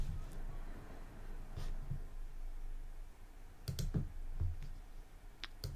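Several sharp, quiet clicks of a computer mouse, in small clusters over faint background hiss, close and without talk.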